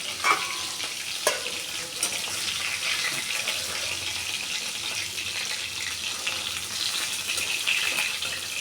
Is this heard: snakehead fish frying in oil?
yes